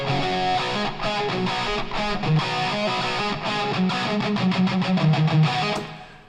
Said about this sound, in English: let's give it a lot more reverb so we hear more of that in the mix